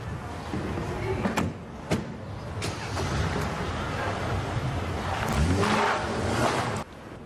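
A car heard from close by, with a low rumble and several sharp thumps like doors or windows shutting, and little talk.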